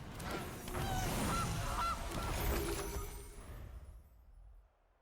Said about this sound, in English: We have a goose.